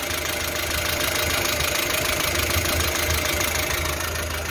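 A Renault Logan engine idles steadily up close in the engine bay, with an abnormal rapid metallic ticking or knocking running through the low rumble the whole time.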